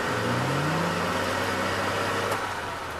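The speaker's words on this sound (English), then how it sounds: "the OB is remembered by many for its characteristic gearbox whine" A 1939 Bedford OB bus with a petrol engine, its characteristic gearbox whine rising in pitch as it pulls away, over a steady engine drone heard close and loud, with no talking.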